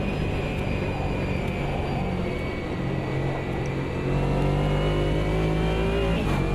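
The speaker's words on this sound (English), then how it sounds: "I found the sound of the racing cars going around relaxing" Engines of racing cars in the video game Automobilista 2 drone continuously, their pitch rising and falling as they circle, a steady, mid-distance mechanical hum.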